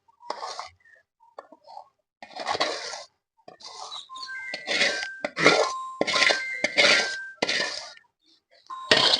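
Hot freshly made sweet being scraped and dropped onto a plate, irregular clinking and scraping bursts of utensil against plate, some close and sharp, with brief pauses between.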